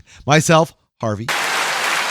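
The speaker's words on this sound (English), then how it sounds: "at least I got a hand clap too" Single hand clapping in applause for a podcast host, a steady broadband patter that starts after two spoken words and continues to the end, fairly loud and close.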